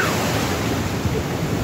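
Ocean waves rolling onto a beach produce a loud, steady broadband wash of surf with no distinct breaks, as if close to the shoreline, and no speech is heard.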